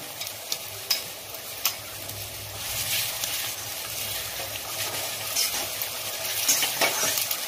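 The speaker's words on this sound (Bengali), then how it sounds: "এই পেঁয়াজটা আমি আধা ভাজা করে নিয়েছি। এরপরে আমি এক এক করে সব মশলা টসলা দেবো।" Half-fried onion sizzles in a pan as ginger and spices go in, a steady close frying hiss with occasional scraping stirs and light clinks of a spoon against the pan.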